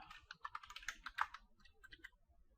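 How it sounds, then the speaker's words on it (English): Someone types a username on a computer keyboard, a quick close burst of soft key clicks that slows and then trails off into a few last taps. "I'll just type test user, it would be the name"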